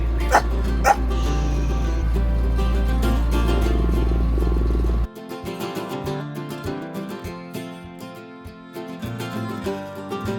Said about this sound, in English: Oh, now there's a dog.